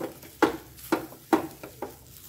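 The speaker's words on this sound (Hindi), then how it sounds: "अब ये बचे हुए आलू थे ये भी मिला लेंगे हम इसमें डाल के थोड़ा थोड़ा करके" Leftover potatoes are stirred into spinach samosa masala in a pan, heard as four or five soft, evenly spaced scraping knocks of a spoon, close and fairly quiet.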